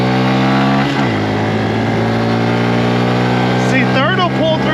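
A 2022 Honda Grom motorcycle with a modified sprocket, engine held at a steady high drone while climbing a hill, pitch dipping briefly as a gear changes, with a rider talking over the loud, close engine.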